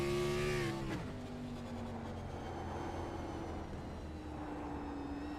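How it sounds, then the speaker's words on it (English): A race car in a racing game revs high, then its engine drops after about a second and drones on under load, with a rough, gritty texture from tires spinning as the throttle is applied. "there you can hear the tires spinning when he's getting on the tire, when he's getting on the gas"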